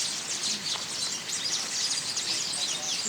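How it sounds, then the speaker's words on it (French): Many birds chirp and call together near nests on an island, a dense, continuous high twittering chorus with overlapping short calls and no voices. "Il y a des oiseaux là, c'est quoi? C'est quoi ces oiseaux?"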